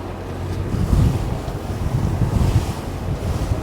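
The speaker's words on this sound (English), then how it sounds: "Getting the wind and the waves. There's a strong gust now coming in." Strong wind buffets and waves wash against a sailboat heading out of a fjord in a funneling gust, with steady low roaring rumble and repeated surging splashes, close and loud, no talking.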